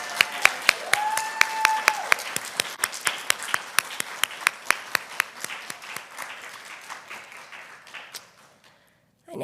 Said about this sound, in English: Can we just give them all just one more round of applause?